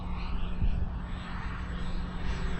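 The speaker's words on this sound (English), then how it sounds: "we'll watch the planes fly" A green jet airplane flying overhead, a steady broad engine roar with a low hum that stays even throughout, fairly distant and unbroken by talk.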